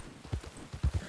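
Horse hooves clip-clopping in the RedM video game, a few quick uneven thuds of a horse moving, close and fairly soft.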